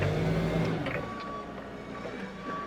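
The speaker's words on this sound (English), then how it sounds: "I'm going to hit the back arrow, and that's where you hear that alarm" A Hyster S50XM 5,000 lb propane forklift backs up with its reversing alarm sounding as repeated high beeps over a steady engine rumble, fairly close.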